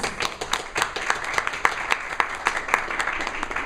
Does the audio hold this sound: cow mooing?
no